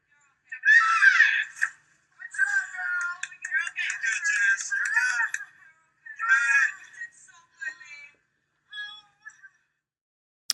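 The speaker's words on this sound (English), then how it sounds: "The way she screamed" A woman on the Big Brother reality show lets out a long, dramatic scream as she falls, shrill and wavering in bursts over several seconds, then trailing off into shorter cries against a quiet background.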